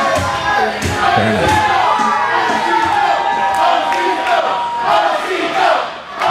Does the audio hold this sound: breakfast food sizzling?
no